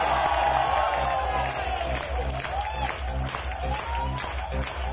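Audience applause at a training session, dense continuous clapping from a crowd that holds steady throughout, loud and close.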